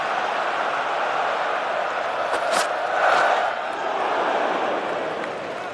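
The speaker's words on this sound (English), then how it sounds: "The crowd is behind Archer." A cricket crowd at Lord's, during an England v Australia match, roars in support of the bowler. The dense, continuous noise swells briefly in the middle, and a voice may sound over it.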